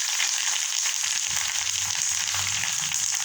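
Curry leaves sizzle in frying coconut oil with a dense, steady crackle and hiss, close and continuous, with faint low stirring bumps.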